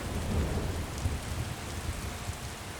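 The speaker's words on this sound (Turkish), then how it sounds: "Gürültüden sesini duyamıyor olabilirsiniz. Ben de kendimi zor duyuyorum. Yağmur dinmedi." Heavy rain pours steadily outside while low rumbles of thunder roll beneath it, a dense, continuous wash of noise with no voices.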